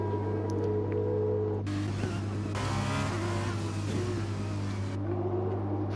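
A Formula 2 race car in a racing video game, Algarve circuit, pulls away from the pit lane, its engine whine rising sharply for a few seconds over a steady low drone, then easing back to the background hum.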